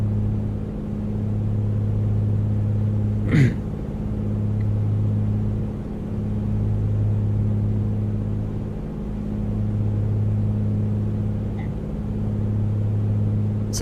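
A Piper Comanche engine drones steadily at reduced RPM during a descent in the A2A flight simulator, a loud, low, continuous hum with a slow pulsing swell and one brief click partway through.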